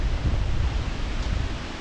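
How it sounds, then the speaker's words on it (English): Strong wind blowing across an open freshwater pond at a state park, a steady broad roar with gusty low rumble and buffeting against the microphone, continuous throughout with no voices. "it's a very windy day"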